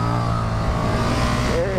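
A 2017 KTM 1290 Super Duke R V-twin engine hums loudly and steadily at close range, with a low throbbing drone and a slight rise in pitch near the end.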